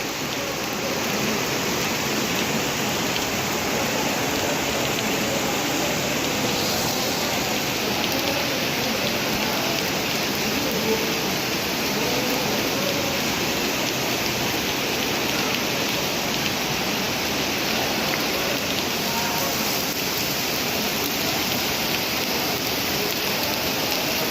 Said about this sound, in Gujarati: અત્યારે વરસાદી માહોલ છે